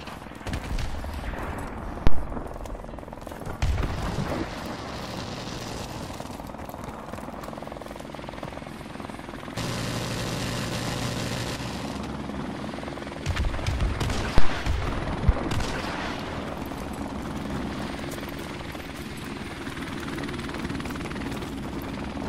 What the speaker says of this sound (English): that helicopter is very scary